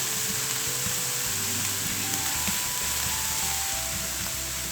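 Cauliflower fritters fry in a pan with a steady, close sizzle and crackle throughout, with faint stirring noises underneath and no voices.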